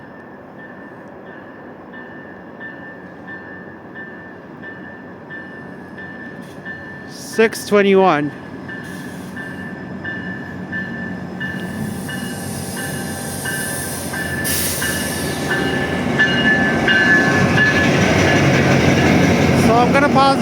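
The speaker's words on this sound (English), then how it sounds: "So we have an MP40PH engine pulling into Oriole Go Station." An MP40PH diesel locomotive pulls a GO train into Oriole GO Station, its rumble and rolling wheels building steadily louder, with a brief sharp squeal partway through and a person speaking briefly.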